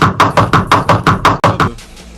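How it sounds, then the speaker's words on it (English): About eight rapid, loud knocks rap on a door in quick even succession, then stop, close and sharp with no voices. "Who that knocking at the door?"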